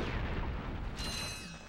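A tank fires in the Ratchet & Clank video game: a heavy, deep explosive boom with a rumbling low-end blast and a short high metallic ring trailing after, loud and close.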